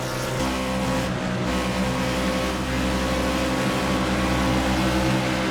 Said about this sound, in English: You could hear his tires scrubbing as he came out of that turn 4